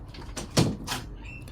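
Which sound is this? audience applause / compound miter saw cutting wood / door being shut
door being shut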